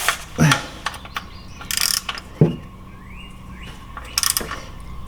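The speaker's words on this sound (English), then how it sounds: "Get our ratchet. Tighten him back up." A ratchet tightens the drain bolt back up during an oil change on a BMW M340i, with bursts of rapid clicking pawl strokes close by, separated by short pauses and small metallic handling noises.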